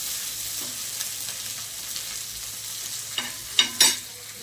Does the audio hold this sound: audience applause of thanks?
no